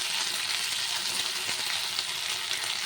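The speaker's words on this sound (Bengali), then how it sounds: "তেলটা যেই খুব ভালো গরম হয়ে যাবে, তারপর আমি এতে একে একে সব মাছগুলোকে ছেড়ে দেবো।" Pieces of pomfret fish fry in hot oil in a wok, giving a dense, steady sizzle that stays loud and even throughout with no talking.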